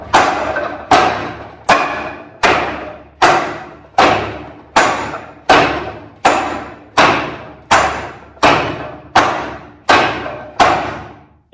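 Wooden Wing Chun training dummy struck in a steady rhythm, a dozen loud, close hollow thuds spaced about a second apart, each decaying quickly, with no talking.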